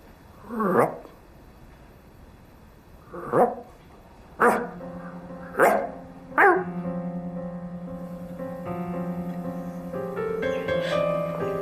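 A person imitates a dinosaur roar with five short, loud bark-like yelps spaced irregularly, sounding much like a dog barking, followed by a sustained tonal hum with music-like layers underneath.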